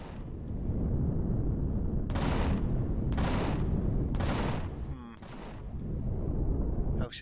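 Automatic ship-mounted guns open fire on aliens in the space survival game Empyrion, a steady rumbling barrage punctuated by about four sharp bright bursts, loud and continuous with no voices.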